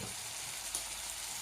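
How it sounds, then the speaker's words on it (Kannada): Tomato chutney with salt frying in a pan, a dense, even sizzle held close and steady throughout, with one faint clink of a utensil midway and no speech. "ರುಚಿಗೆ ತಕ್ಕಷ್ಟು ಉಪ್ಪು ಹಾಕೊಂಡು ಇದಕ್ಕೂ ಸ್ವಲ್ಪ ನಾನು ಫ್ರೈ ಮಾಡ್ಕೊತ"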